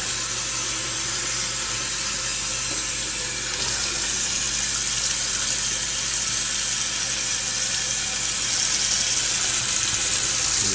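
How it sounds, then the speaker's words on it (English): Kitchen tap runs steadily over cooked meat in a strainer to rinse away grease, a loud continuous hiss and splash of water without pause. "we're just going to give that a rinse under the tap, and that will help get some of that grease out of there"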